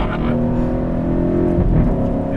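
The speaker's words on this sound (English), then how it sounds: "that's the sound when it changes gears is almost worth the slow gear change speed" An Alfa Romeo 8C Competizione sports car engine revs and drops sharply during a slow gear change, a loud rumbling growl with a brief shift in pitch.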